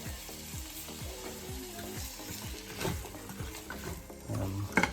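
Chicken tikka masala ingredients stirred in a hot pan, with steady sizzling and frying under repeated scraping strokes of a utensil, close and continuous.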